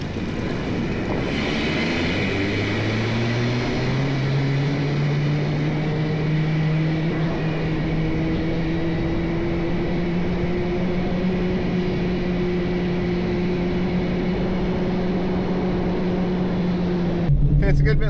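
A Jeep cruises steadily, its engine tone rising early and then holding a constant low drone under heavy rumbling road and wind noise, ending with a short clunk.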